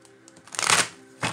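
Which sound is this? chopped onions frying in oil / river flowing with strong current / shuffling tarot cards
shuffling tarot cards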